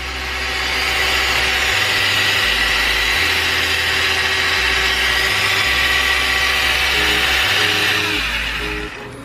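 A small RC car engine runs flat out at full throttle, a loud, sustained high-pitched whine and buzz with a steady low drone beneath that shifts pitch in steps over several seconds.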